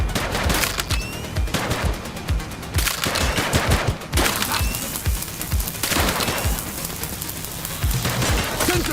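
Sustained video game gunfire in The Precinct police action game, with dense bursts of rapid shots repeating across the whole stretch, loud and close, with a few brief pauses between volleys.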